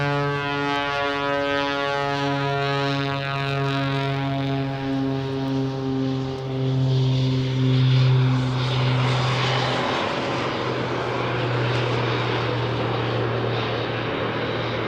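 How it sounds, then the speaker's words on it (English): A jet-powered Pitts aerobatic biplane flies knife-edge at the Bournemouth air show in 2023, giving a loud, sustained roar with strong steady harmonics that shift in pitch as it passes, with no talk over it. "Just arriving from the right now in knife edge flight, as is typical. Here is the jet pits."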